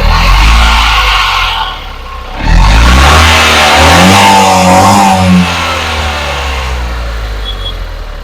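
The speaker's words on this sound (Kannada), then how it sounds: "Engine sound ಕೇಳಿಸ್ಕೊಂಡ್ರಿ." Petrol engine of a 2015 Tata Nano Twist XT starting up and idling close by, with a dip near two seconds followed by a steady rev that settles into an even, smooth hum.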